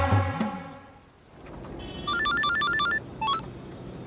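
A telephone ringtone plays in bursts of rapid electronic beeping, a long trill followed by a short second burst, after a brief noisy thump at the start, in a Hindi police drama.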